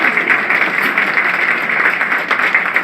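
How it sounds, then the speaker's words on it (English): A congregation applauds at a Rosh Hashanah High Holiday service: a dense, steady wash of many hands clapping that holds evenly throughout with no pause. "It's all right to applaud."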